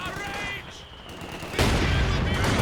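Gunfire from a Company of Heroes 2 battle erupts as a loud burst of rapid shots near the end, following a quieter stretch with background game sounds and a speaking voice.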